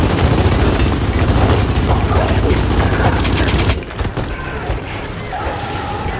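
Sustained, loud gunfire aimed at a snatcher creature in Gears of War 4, a dense roaring fusillade for several seconds that cuts off abruptly, leaving quieter battle ambience behind.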